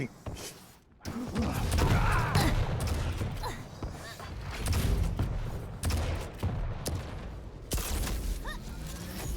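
Railgun shots and rapid gunfire from the video game Quake Champions, a dense, loud barrage of bursts and booms with brief gaps, packed with overlapping game effects.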